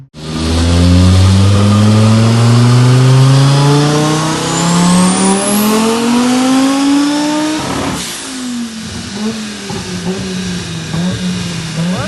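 An Audi 80 with a turbocharged 2.2-litre five-cylinder engine accelerating hard, a loud rising engine note that climbs steadily through the gears, then a shift and another rising pull, with no talking.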